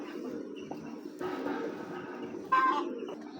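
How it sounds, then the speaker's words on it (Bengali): A pair of Giribaz pigeons offered at a pigeon sale coo softly and briefly, with a faint, low murmur and a short louder burst near the end. "দর্শক এক জোড়া গড়া কবুতর দেখতে পারতেছেন।"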